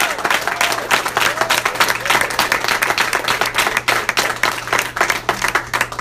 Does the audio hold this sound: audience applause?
yes